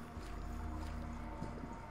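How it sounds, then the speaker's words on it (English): Water flowing through spacious underground sewers in the Parasite Eve video game, a steady low rushing wash with faint dripping detail, continuous and fairly quiet throughout. "I heard water"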